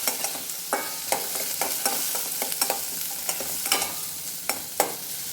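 Onions frying with salt in a pan for uggani, a steady close sizzle broken by the scrape and clack of a spatula stirring at an irregular rhythm, with no voices.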